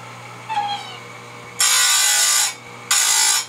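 An electric chain grinder sharpens the cutter teeth of a saw chain in two loud bursts of grinding, each about a second long and separated by a short pause. A faint squeak comes first.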